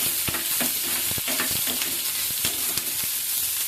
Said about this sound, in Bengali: এবার দিয়ে দিচ্ছি পেঁয়াজ কুচিটা ভাজা ভাজা করে নেবো